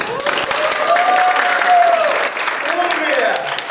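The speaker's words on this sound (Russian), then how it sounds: "Красивые аплодисменты!" A crowd claps and cheers in sustained applause, with voices calling out over the clapping throughout.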